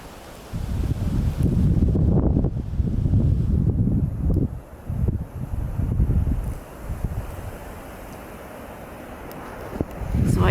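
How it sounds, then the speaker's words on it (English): Strong, frigid wind gusting across an open hill beside a railway siding in autumn, a loud, steady roar with buffeting surges that ease toward the end. "the wind just came up"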